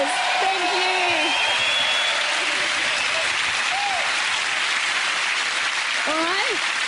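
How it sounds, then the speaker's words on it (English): Large television studio audience applauding after a performance, a dense, steady roar of clapping with scattered whoops and voices riding on top, loud and continuous throughout. "Give them a huge round of applause"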